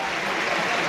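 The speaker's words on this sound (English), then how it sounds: "He gets a bit of a cheer." Crowd cheering and applause at the London 2012 Olympic tennis as Roger Federer walks off the court, a broad steady roar of many voices filling the whole moment.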